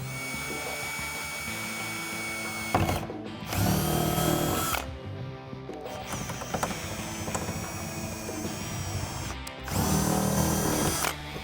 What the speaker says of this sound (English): still using that 1/8 inch bit, I'm gonna do the other 2 holes.